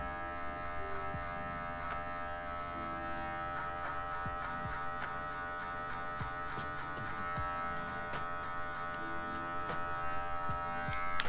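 Electric hair clipper fitted with a number 1 guard cutting hair during a V-shaped fade haircut, a steady close buzz running throughout with small crackles as it passes through the hair.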